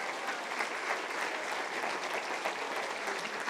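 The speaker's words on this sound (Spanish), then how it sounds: "Un aplauso para las mujeres, por favor." A crowd applauds in a continuous, even patter of clapping hands that holds steady throughout.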